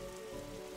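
In the video game Darkside Detective, rain falls on a rooftop as a soft, steady patter. It is faint and continuous, with no talking.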